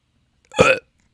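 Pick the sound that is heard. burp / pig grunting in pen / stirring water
burp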